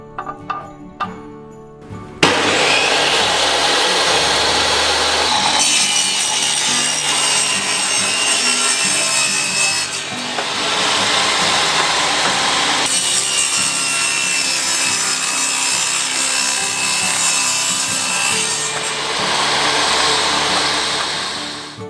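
A Ryobi power saw rips timber lengthwise at a 100 mm setting for scrap-wood Christmas tree pieces. The motor spins up and then makes several long, loud, close cutting passes with short dips between boards.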